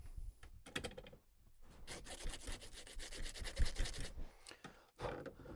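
A Savage 87 .22 rifle extractor part is rubbed back and forth shoe-shine style, giving close, scratchy sanding strokes in uneven bursts with brief pauses.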